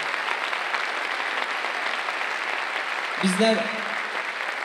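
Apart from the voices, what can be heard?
audience applause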